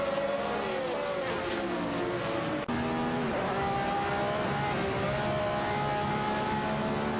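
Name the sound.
race car engines in an AI racing video game, McLaren ITC and Chevrolet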